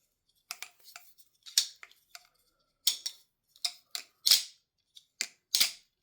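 An LDY balisong butterfly knife being flipped close up, producing quick crisp clacks and ticks in irregular clusters, some single and some in rapid doubles, with silence between.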